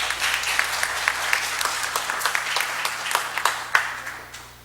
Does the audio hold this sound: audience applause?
yes